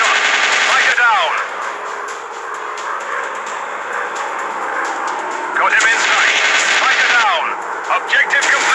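Fighter-plane machine guns fire in bursts during a WW2 dogfight in an Android video game. The rattling volleys come loud at the start and again near the end, over a steady engine drone.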